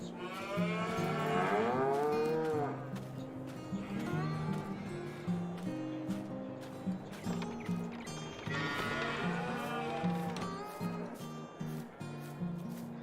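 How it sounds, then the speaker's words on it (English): Young cattle on a dairy farm in a farming game moo repeatedly, with several drawn-out calls overlapping amid steady background farm ambience. "So these are all our baby cows"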